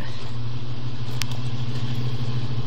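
An old car with a 307 Oldsmobile engine and dual Flowmaster exhausts idling steadily, a deep low rumble held close and constant, with one brief sharp click partway through.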